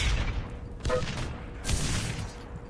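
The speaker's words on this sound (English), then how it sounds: "Mechanical takes himself out with the shrap grenade" Shrapnel grenade blasts in Enemy Territory: Quake Wars, with a few sharp bursts at moderate distance, each followed by a short rumbling decay, separated by brief lulls.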